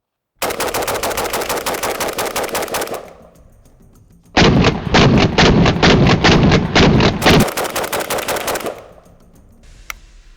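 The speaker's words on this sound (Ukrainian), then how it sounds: "Якщо ви хочете стріляти швидко, ви можете це робити і з автоматичним карабіном." Two long bursts of rapid automatic gunfire from a Polish AK-pattern carbine, loud and close, separated by a short pause, each a fast even stream of sharp shots.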